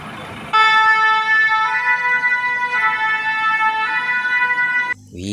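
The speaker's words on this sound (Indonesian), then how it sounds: "Widih, ada mobil pemadam kebakaran." Electronic siren from a toy fire truck, a steady wailing multi-tone whine sounding close and loud for about four and a half seconds before cutting off, with faint background noise around it.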